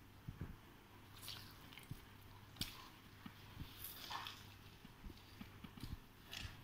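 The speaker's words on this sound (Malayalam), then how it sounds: "ഇനി ഇതൊന്ന് പിഴിഞ്ഞെടുക്കണം വെള്ളത്തിൽ." Soaked soya beans are squeezed by hand to press the water out, giving soft, irregular squelching and wet squishes close to the microphone, quiet and intermittent with no speech.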